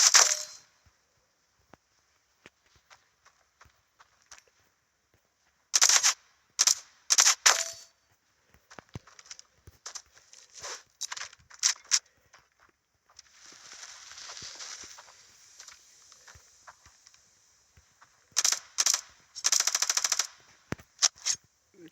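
Gunfire in a shooter video game comes as scattered sharp bursts and single shots, some in rapid clusters, between quiet gaps, with a longer hissing passage in the middle.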